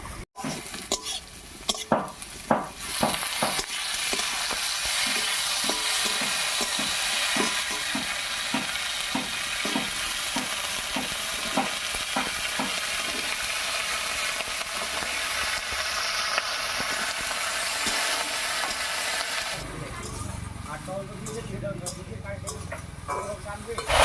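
Chopped tomatoes and eggplant sizzle and fry in a pan, with repeated stirring scrapes and utensil clinks throughout before a quieter stretch at the end.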